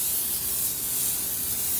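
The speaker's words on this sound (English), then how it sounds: "I'm gonna hit them with some of this Pam cooking spray" Pam cooking spray misted over rabbit on a wood-fired grill, a steady close aerosol hiss that runs unbroken throughout, loud and alone.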